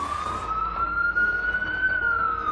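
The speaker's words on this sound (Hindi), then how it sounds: "एम्बुलेंस जा रही है।" An ambulance siren wails continuously on a passing emergency vehicle, a steady rising and falling tone over road noise, fairly loud and unbroken throughout.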